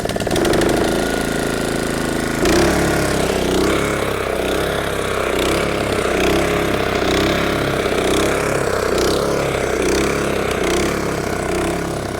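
A small engine started with a little throttle and choke runs loud and close with a rough, rhythmic chugging and knocking that holds steady for the whole stretch.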